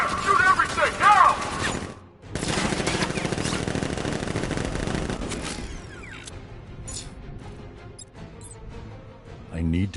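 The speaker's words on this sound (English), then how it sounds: "Guard! Open fire! Shoot everything!" In a PS4 action game, guards open fire with a dense burst of rapid gunfire that breaks off abruptly, then sparser shots and mechanical clatter follow as a voice talks over the battle.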